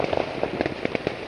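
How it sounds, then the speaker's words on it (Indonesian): Firecrackers going off at midnight for Chinese New Year in a Johor Bahru housing estate: a rapid, irregular string of sharp cracks and pops, fairly near and distinct, with no talking. "Bengi-bengi jam 12 delok petasan mercon iki."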